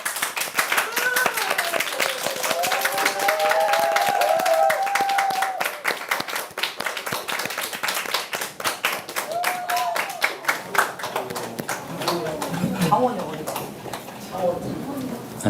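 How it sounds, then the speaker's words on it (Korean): Applause rises to welcome a performer onto the stage at a birthday party show, a steady patter of many clapping hands under voices and other stage sounds for most of the clip. "오늘의 스페셜 무대를 위한 장원 형님을 큰 박수로 맞아주시기 바랍니다."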